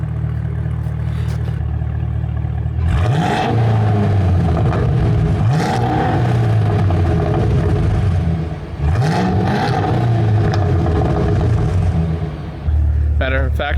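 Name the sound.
car engine revving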